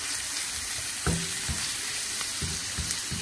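Pieces of chicken fry in a pan for a creamy chicken dish. A continuous sizzle hisses at moderate volume, with a few sharp knocks and clinks of utensils against the pan. No one speaks.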